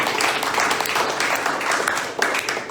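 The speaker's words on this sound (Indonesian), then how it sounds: "Sekali lagi istri tepuk tangan" A church congregation claps during a Sunday sermon, producing a dense, steady burst of applause at moderate loudness that tapers slightly near the end.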